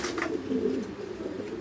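A dark checker pigeon coos nearby, a low soft purring call that rises and rolls in a short phrase over quiet background noise.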